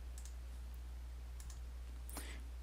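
A few brief, faint keystrokes on a computer keyboard, scattered clicks over a steady low hum in a quiet room.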